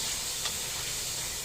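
Squid sautéing in a pan for adobo gives off a steady, loud hiss and sizzle with a brief stirring burst, close and continuous.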